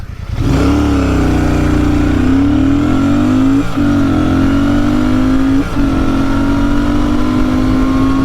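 Royal Enfield Shotgun 650 or Hunter 350 motorcycle on a 0-60 run into the wind, accelerating hard and close with a loud, continuous engine tone rising in pitch and two brief dips at gear shifts.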